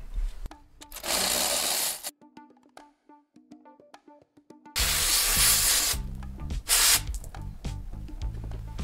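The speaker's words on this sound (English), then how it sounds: "we gotta pull the lifters, we've gotta pull the valve springs" Lifters and valve springs are pulled from a junk demolition-derby engine in short bursts of hissing, clattering metal work, separated by a quieter stretch of small clicks and taps.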